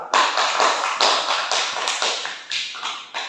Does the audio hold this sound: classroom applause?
yes